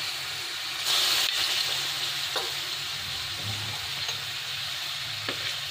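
Green chilies and curry leaves frying in a hot pan for mushroom curry, giving a steady, soft sizzle and hiss with a few light stirring taps, close but fairly quiet and unbroken by speech.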